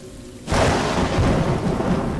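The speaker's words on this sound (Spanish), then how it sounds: "Ah, encima me agarra la lluvia." In the video game Road 96, a sudden loud rumble of thunder breaks in and rolls on, over steady heavy rain.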